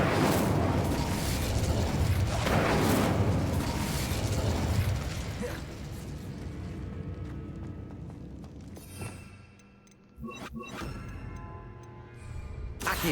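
The Incendio fire spell in Hogwarts Legacy bursts with a loud roaring whoosh and crackle of flame, then fades into clanking, ratcheting mechanical game sounds with a few sharp pops.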